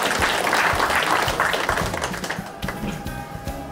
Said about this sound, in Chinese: 那个大家热烈鼓掌